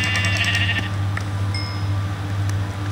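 Sheep bleating in Minecraft, a few drawn-out bleats over a steady low electronic hum.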